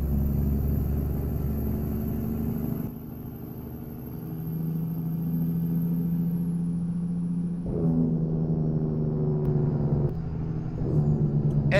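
A 2019 Volvo truck engine in American Truck Simulator drones with a steady low rumble, easing off, then the Jake brake barks in with harsh, loud low-pitched pulsing near the end.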